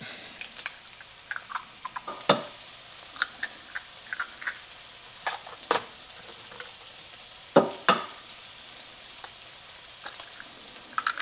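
Eggs are mixed and scrambled omelet style in a buttered pan, with irregular spatula clicks and scrapes against the pan over a faint, low sizzle, close up and without talk.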